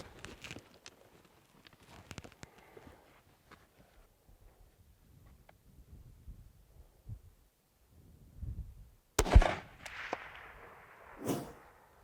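A single sharp rifle crack from a shooting position rings out loud and close after a long, mostly quiet stretch of faint rustling, followed by a short decaying echo.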